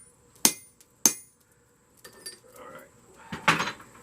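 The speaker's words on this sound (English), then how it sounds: "We're going to move back to the anvil, and I'll finish that off there." A hammer strikes metal at an anvil in a workshop: two sharp ringing clanks close together, a pause with some faint shuffling, then a third heavier strike with a brief metallic rattle.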